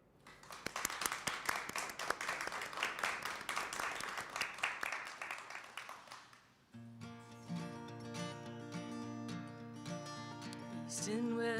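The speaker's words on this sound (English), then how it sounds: "a virtual Whitehorse Live round of applause for the woman of this hour" Round of applause for a performer at a music show, clapping for about six seconds that fades before a musical tone begins.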